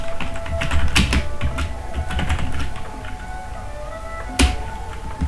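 Close, steady typing on a computer keyboard while a title is entered, a continuous patter of key clicks with a few sharper taps and no voices.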